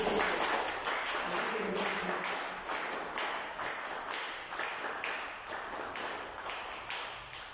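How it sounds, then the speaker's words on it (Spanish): Steady audience applause at a Peruvian APRA party school gathering, a dense patter of many hands clapping at moderate distance for several seconds, gradually thinning, with a faint voice underneath. "Palmas apristas para nuestro querido"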